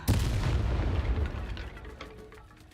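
A Depulso spell is cast in Hogwarts Legacy, landing as a loud, booming blast that rumbles and fades over a couple of seconds.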